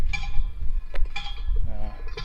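Posts are pounded in on a residential street in Red Lodge, Montana. Repeated metallic clanks ring out at a distance over faint outdoor background noise, three or four strikes spaced about half a second apart, with no one speaking.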